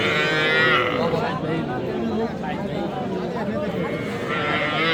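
At a rural cattle market selling dairy cows with calves, a cow gives drawn-out moos nearby while people talk and haggle close by, amid steady crowd chatter.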